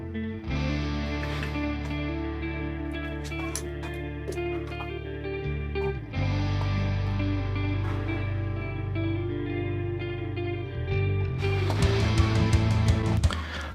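Electric guitar plays chords through a Boss CE-1 style vintage chorus effect, shimmering and wavering, steady and fairly loud, with no voices, in a German pop-punk mix.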